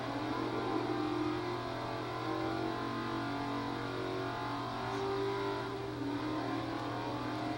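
A supercar engine in the video game Crackdown drones steadily with a continuous mid-pitched hum, revving slightly throughout at moderate level with no talk.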